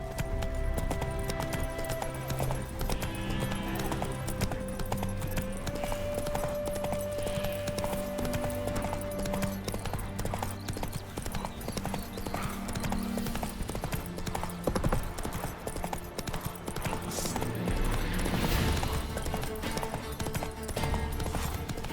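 Hoofbeats from Roach, the horse in The Witcher 3 video game, clop along in a steady rhythm beneath a continuous music score, with a soft whinny possible.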